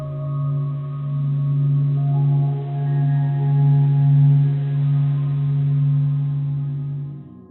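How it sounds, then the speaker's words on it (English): Sonified solar observatory data from the Sun forms a steady, low droning hum with layered harmonic overtones, swelling gently and sustained for several seconds before fading out, with nothing else heard. "The sounds you heard in this piece were sonified by the Stanford Experimental Physics Lab"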